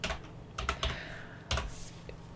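Quick bursts of keystrokes on a computer keyboard, close and clear, with short pauses between clusters of taps and no talking.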